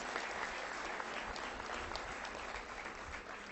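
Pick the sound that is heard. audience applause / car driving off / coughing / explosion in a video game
audience applause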